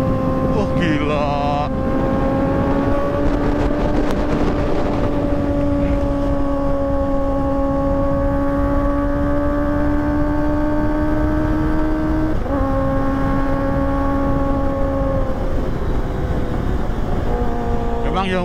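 A Kawasaki ZX-25R motorcycle fitted with a Proliner TR2 full-system exhaust, loud and close, holding a high-pitched sustained engine howl that rises slightly, dips with a gear change around twelve seconds, then climbs again amid wind noise.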